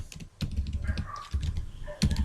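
Keys on a computer keyboard click in quick irregular bursts while someone writes code, with the close, crisp taps separated by short pauses.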